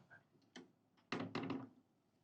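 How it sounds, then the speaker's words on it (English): A gasket-sealed cabin door on an Azimut yacht swings shut with a few soft knocks followed by a dull double thud, quiet and close in a hushed room. "So when I close this door, this cabin becomes extremely quiet."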